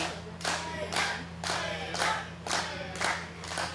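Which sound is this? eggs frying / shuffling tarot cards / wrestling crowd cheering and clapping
wrestling crowd cheering and clapping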